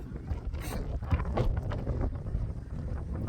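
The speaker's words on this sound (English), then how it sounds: "Wind is seriously blowing." Wind buffets an outdoor microphone with steady low rumble and gusty bursts for the whole stretch, loud and close with no voices.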